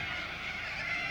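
Noisy birds in a tree give loud, goose-like honking calls that run continuously and densely throughout, with no talk over them.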